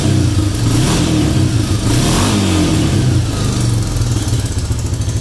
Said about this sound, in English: It revs clean through the gears.